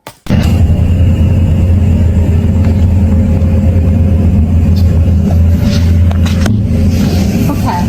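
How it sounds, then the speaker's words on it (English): Car engine revving hard with wheels spinning in deep snow during an extreme Canadian winter, a loud continuous low roar that holds steady for several seconds close by. "They're moving the car because it got stuck in the snow."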